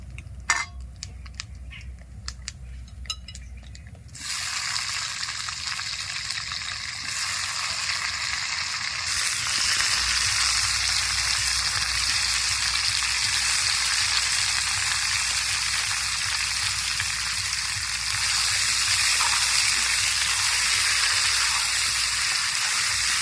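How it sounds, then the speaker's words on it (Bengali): Star fruit dropped into hot oil with whole spices for a sweet-sour pickle sets off a sudden loud, steady sizzle that swells further and continues without talk for about twenty seconds after a quieter start. "তেলের উপরে সমস্ত গোটা মশলা দিয়ে এক মিনিট ভেজে নিয়েছি এবার কামরাঙা ছেড়ে দিব"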